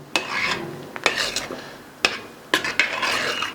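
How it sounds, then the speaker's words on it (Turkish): A spoon scrapes and knocks around a pot of milky bulgur soup with peppers in several uneven strokes, close and fairly loud, with short gaps between stirs. "Tekrar karıştıracağım"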